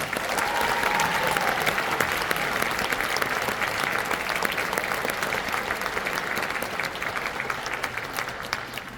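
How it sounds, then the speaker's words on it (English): After a school band's spring concert piece, the audience breaks into dense, continuous applause, a full roomful of clapping held at a steady level and easing slightly toward the end. "Give them another round of applause for that one."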